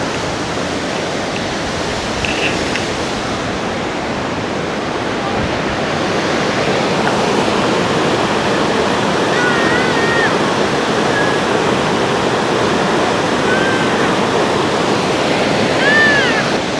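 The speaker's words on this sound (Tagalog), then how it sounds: "lakas ng agos oh." A strong, rushing waterfall in Yosemite gives off a loud, steady broadband roar that fills the whole stretch, with faint high chirps now and then above the torrent.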